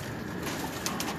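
Pigeon from a racing loft cooing softly at a distance, with low background rumble throughout and a few faint higher chirps near the end.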